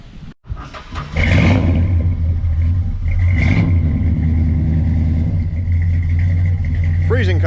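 A 1967 Plymouth Fury III with a 440 V8 and a lumpy cam fires up on a cold start and settles into a loud, steady, loping idle close by, with a brief rev near the end and a person speaking over it.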